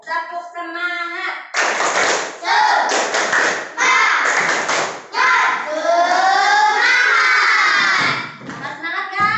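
A group of children in a classroom performs a rhythmic clapping chant called tepuk semangat, loud and close, with chanted voices over steady clap patterns and a teacher's voice at the start.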